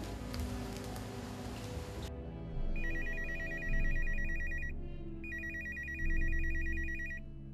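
A telephone rings in two electronic bursts of repeated trilling tones, following a stretch of broad noise, with no one speaking.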